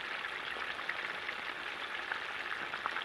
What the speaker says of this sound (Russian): Пока рыба жарится